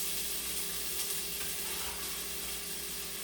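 Onions hiss and sizzle as they go into a hot frying pan for shepherd's pie, a constant, fairly soft frying crackle with no talking over it.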